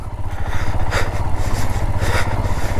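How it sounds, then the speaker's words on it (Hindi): A motorcycle engine labours and revs unevenly as the bike bogs down in deep mud on a rough off-road mountain pass near Shinkula, a close, throbbing chug with rising strain pulses. "बाइक पूरी कीचड़ के अंदर धंस रही है।"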